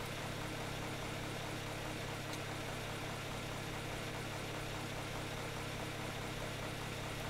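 A grinder machine in the video game ARK Genesis hums steadily and loudly, a dense continuous mechanical drone with low rumble that stays constant throughout, no voices.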